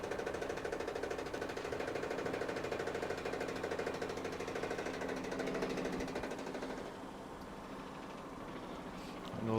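A top-loading washing machine spins after a fill valve repair, giving a steady, fairly quiet mechanical hum with rapid rhythmic rattling throughout, easing slightly near the end.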